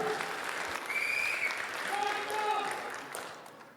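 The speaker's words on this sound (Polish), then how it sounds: "Jarek Janiszewski, brawa!" An audience at a comedy roast applauds a comedian, steady clapping with voices and a few whoops rising over it, fading toward the end.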